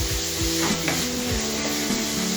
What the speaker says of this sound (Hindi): इसमें हमने जो कद्दूकस किया हुआ छिलका है वो डाल रहे हैं और इसे चला लेते हैं।